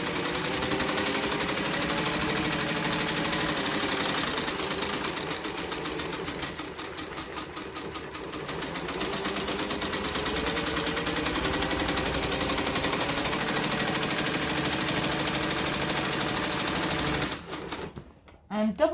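A sewing machine double stitching a traveller bag runs in a fast, continuous mechanical rattle at close range for most of the time, briefly changing pace midway before stopping abruptly near the end.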